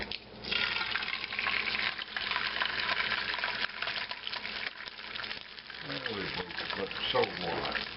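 An egg frying in a pan, with a pot of chili nearby, gives a steady, fairly loud broadband sizzle that runs unbroken through the whole stretch, with small crackles shifting over time.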